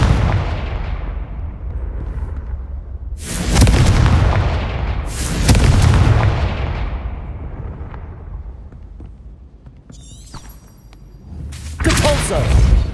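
Spells cast in Hogwarts Legacy set off several loud explosive blasts, each a heavy boom that rolls away, with quieter gaps between them and a sharp magical shimmer near the end.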